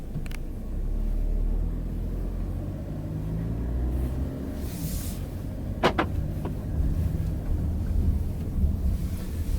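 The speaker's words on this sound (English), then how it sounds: "All right, let's take this thing for a drive." A 2020 Volkswagen Atlas Cross Sport SUV pulls away and drives, its low engine and road rumble steady throughout with a few brief clicks and knocks from inside the cabin.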